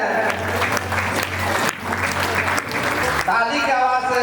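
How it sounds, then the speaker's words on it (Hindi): An indoor audience at a volunteer honouring ceremony for Janta Jagriti Vikas Kendra claps loudly and continuously, with a voice speaking over the tail end. "ताली की आवाज से पूरा अभी रूम गूंजना चाहिए।"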